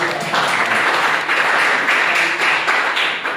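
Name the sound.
class applause for Pacitan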